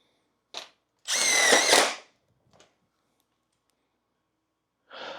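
A Makita cordless driver fires in short bursts near the mic: a quick blip, a longer whirring run of about a second that bogs down as the fastener sets, a tiny tap, then another burst starting at the end.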